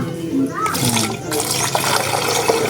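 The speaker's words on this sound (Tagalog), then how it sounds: "Lagyan na natin ng tubig." Water pours steadily into a plastic bottle while mixing organic fertilizer for pechay. It makes a continuous close splashing gurgle, with a voice briefly audible in the background.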